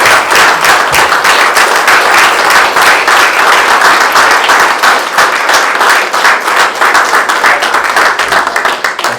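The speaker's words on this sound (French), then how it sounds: "Je pense que nous pouvons l'applaudir." A room full of people claps loudly and warmly at a magazine presentation evening, dense, continuous applause close to the microphone that holds steady for several seconds with no voices over it.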